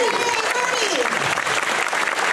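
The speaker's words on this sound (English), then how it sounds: "How about a big round of applause for Barbie, everybody?" Audience at a Universal Studios Florida horror make-up show applauds for Barbie, a short burst of dense, loud clapping with cheering voices mixed in.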